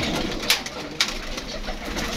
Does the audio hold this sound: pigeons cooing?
yes